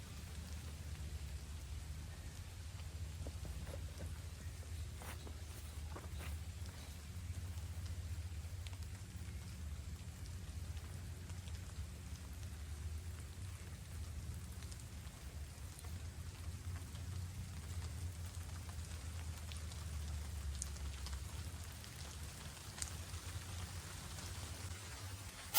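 Steady rain falls across an outdoor disc golf course, a constant soft wash of drops with low rumbling wind noise underneath, unbroken and even throughout with no voices.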